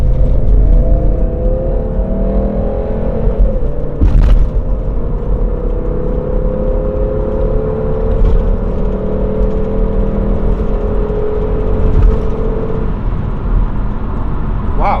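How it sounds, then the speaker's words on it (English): A Volvo V70 T5 wagon accelerates onto a freeway, heard from inside as engine tones climb through the gears with a brief break between shifts, over steady road rumble and wind. "hop on the freeway right now, and I'm gonna see how it pulls and gets up to speed"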